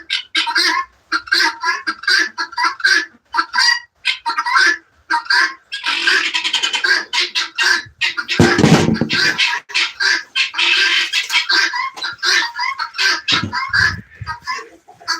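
A guinea fowl calls over and over on a drizzly morning, loud, harsh, rhythmic cries that repeat in quick bursts, with a few brief louder squawks breaking in near the middle and toward the end.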